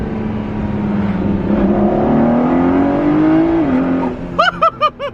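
A Ford GT supercar accelerates on a track: a loud, close engine drone climbs steadily in pitch for several seconds, then cuts off into short rhythmic bursts at the end.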